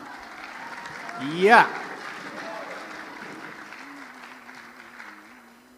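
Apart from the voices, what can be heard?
audience applause at Quran quiz final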